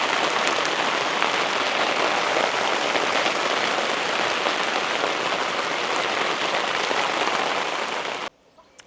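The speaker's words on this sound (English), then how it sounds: "Oh, it wasn't supposed to rain till about 7 o'clock." Rain falls steadily at an allotment garden in Manchester, a dense, continuous patter on nearby surfaces that holds loud and even before cutting off abruptly near the end.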